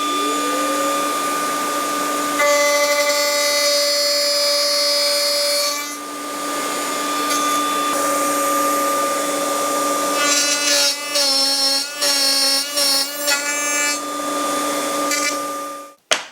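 A mitre saw cutting short wood pieces for a fence, motor whining up and holding a loud steady tone, then a second run with several quick buzzing cuts before spinning down, close and alone.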